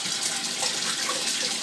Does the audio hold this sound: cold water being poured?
yes